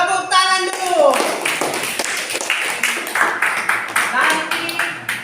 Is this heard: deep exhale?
no